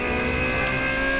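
A 2017 Nissan GT-R engine revs in NFS Unbound, a loud, steady, tonal engine drone held briefly at constant pitch.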